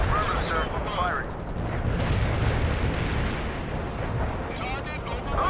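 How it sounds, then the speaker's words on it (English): Artillery barrage in the real-time strategy game World in Conflict, a dense continuous rumble of booming shell impacts and blasts rolling on without pause, loud and close. "Fire mission received. Artillery barrage inbound."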